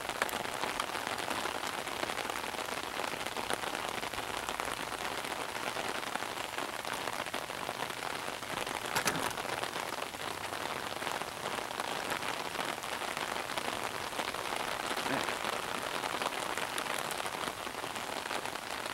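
Heavy rain pours down during a storm beneath a shelf cloud, a dense, continuous hiss of drops striking surfaces for the whole stretch with no talk.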